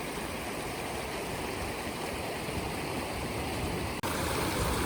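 A river at Lime Kiln State Park near Big Sur rushes steadily, a loud, broad wash of flowing water with no voices.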